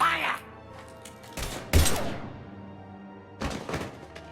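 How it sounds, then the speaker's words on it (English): Mass Effect 3 firefight: a few sharp bursts of gunfire crack out amid thuds and clatter, loud against quieter game background. "Now open fire!"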